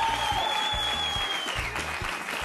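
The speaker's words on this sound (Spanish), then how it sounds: "Un aplauso para él." Studio audience applause on a Chilean television talk show, a dense, steady burst of clapping with rhythmic low thumps and a faint tonal whine running through it, brief and close.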